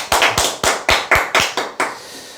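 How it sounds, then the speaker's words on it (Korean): About eight loud, close handclaps in a quick, even rhythm at a sales lecture, each a sharp crack with a short ring, then stopping. "박수 한번 치시죠"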